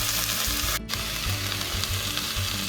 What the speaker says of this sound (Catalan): en el seu lloc sofregim la ceba i una mica de pastanaga i tot seguit hi afegim tomàquet